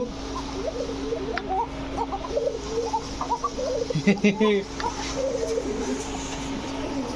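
Domestic pigeons coo in soft, low, repeated burbling calls close by, several birds overlapping, over a steady hum with a brief rustle or scuffle midway; no one speaks during the calls.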